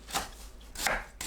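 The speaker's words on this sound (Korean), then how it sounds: "(4cm에서 5cm) 길이로 썰어주세요." A knife chops washed dandelion leaves into 4–5 cm lengths on a cutting board, giving two or three crisp, close cuts with quiet gaps between them.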